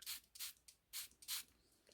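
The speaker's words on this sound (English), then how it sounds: "and you would take a spritzer" Several short hissing spritzes from a spray bottle spraying ink, five or six quick bursts in an uneven rhythm, close and fairly quiet.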